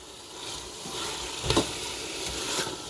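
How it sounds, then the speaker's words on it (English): Beef sizzles in an Instant Pot while a utensil scrapes the sides of the pot, a steady frying hiss with a couple of short scraping strokes close by. "Always remember to scrape the sides of the pan."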